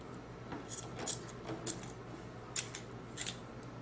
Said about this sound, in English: So we'll take our scissors, and you have to pull it kind of tight.